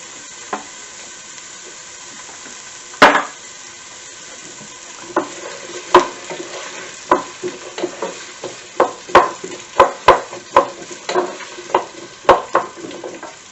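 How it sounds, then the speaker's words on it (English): Onions and lamb sizzle and fry steadily in hot fat, with a series of sharp scraping knocks from stirring that grow more frequent toward the end. "So sizzling is good."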